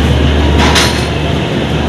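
The 12318 Akal Takht Express sits on platform 2 at Ambala Cantt railway station, a loud steady rumble of the train with a brief hissing burst partway through and no talk.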